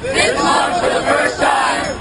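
An Occupy Wall Street crowd cheers and shouts, a loud, dense roar of many voices swelling in waves throughout.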